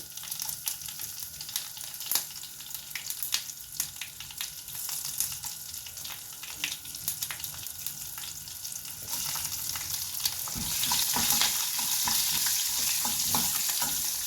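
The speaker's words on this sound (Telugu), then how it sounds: "ఇలా కొంచెం వామని వేగుతున్నప్పుడు పచ్చిమిరపకాయలు కూడా వేసేయాలి." Ajwain seeds and green chillies sizzle in hot oil in a pan, a steady close crackle that swells louder and hissier toward the end, with no voices.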